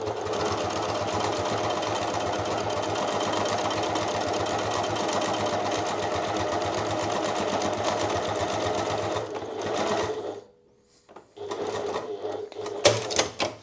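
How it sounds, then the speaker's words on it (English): A sewing machine stitching leather patchwork runs in a long, steady, close mechanical chatter, stops abruptly, then restarts for short bursts after a pause. "I'm gonna do a little bit stitching like this."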